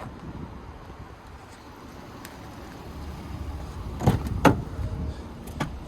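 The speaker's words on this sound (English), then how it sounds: "And there's your lift gate. Close that by pressing that button inside." The power liftgate of a 2015 Jeep Grand Cherokee Summit closes with a low motor hum under outdoor wind, then latches shut with a couple of sharp clunks near the end.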